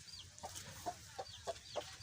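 Chickens clucking inside a cage on a poultry farm, a series of short soft clucks and chirps repeating roughly every third of a second, faint and at a slight distance over low background hum.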